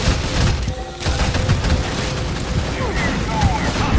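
Dense, continuous gunfire from the shooter game FUSE, with rapid bursts and booms blending into a loud, constant barrage, and a voice talking over it.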